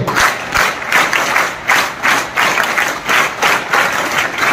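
An audience at a felicitation ceremony in Chalisgaon claps in loud, steady rhythmic bursts, with roughly two pulses per second filling the room throughout.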